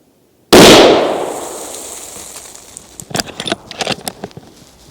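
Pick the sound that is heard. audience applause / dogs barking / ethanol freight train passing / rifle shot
rifle shot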